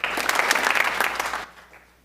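A crowd at a high school senior honors awards ceremony claps in a short burst of Norse-style two-clap applause, lively and close for about a second and a half before cutting off into quiet room tone.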